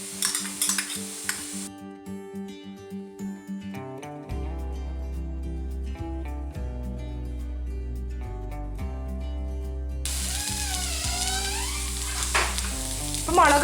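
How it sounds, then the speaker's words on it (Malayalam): Onions and green chillies fry in a pan for a chicken curry, giving a steady close sizzle that starts partway through and continues to the end. "ഈ ഉള്ളിയും പച്ചമുളകും ഒക്കെ വഴന്നു വന്നിട്ടുണ്ട്."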